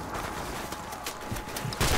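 Gunfire in Call of Duty: Modern Warfare Remastered crackles as dense, rapid bursts over a steady, noisy game background, growing louder at the end.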